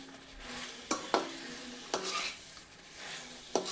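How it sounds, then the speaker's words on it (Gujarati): Snack balls made from leftover roti being stirred in a pan: sharp spoon clacks and scrapes at irregular moments over a soft, low sizzle, with no voices. "તો બોલ્સને આપણે સારી રીતે મિક્સ કરવાના છે."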